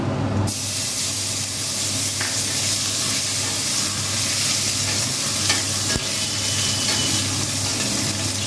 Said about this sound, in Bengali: সাদা জিরে ফোড়ন দিলাম কিশমিশগুলো দিয়ে দিচ্ছি